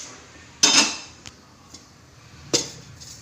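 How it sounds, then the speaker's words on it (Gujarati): A pressure cooker being set down on a gas stove, giving two sharp metallic clanks a couple of seconds apart with a few faint taps between them, close up and without talk. "ગેસ ચાલુ કરીને કુકર મૂકીશું"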